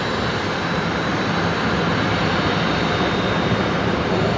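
A plane's engines roar at Brisbane Airport at night as it gets underway, a loud, steady broadband jet rumble that holds constant throughout.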